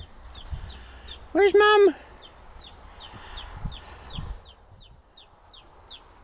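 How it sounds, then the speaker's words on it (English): A baby chick left outdoors under a barbecue lid cheeps in a steady series of short, high, evenly spaced peeps, with a loud, harmonic-rich clucking call and a few spoken words partway through. "Oh, that's the baby chirping here."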